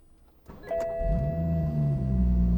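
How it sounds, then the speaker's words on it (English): A tuned BMW 340i fitted with a downpipe cranks briefly, then catches and settles into a loud, deep, close rumbling idle with a steady hum. "As you can hear, it is the loud start. It sounds much better now with the downpipe."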